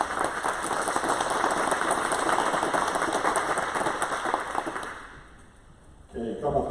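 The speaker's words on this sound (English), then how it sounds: "If we could give those that are in attendance and watching online, those that are on that committee, a round of applause for their hard work." An audience at a community meeting about potential consolidation applauds in a dense, sustained burst of clapping for several seconds, then fades away as a voice begins near the end.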